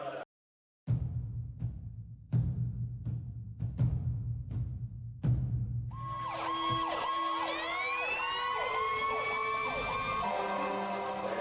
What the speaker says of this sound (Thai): จะมีรถดับเพลิงออกมานะฮะตามเมืองเพื่อไปดับไฟดับเพลิงที่ตึกสีขาวนี่ครับ